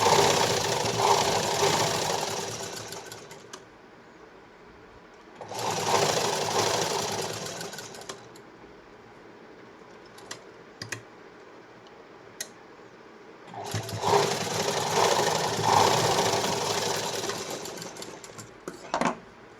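An electric sewing machine stitches a lined blouse in three separate runs, each a steady, fast needle whir lasting a few seconds, with pauses and small clicks of fabric handling between them.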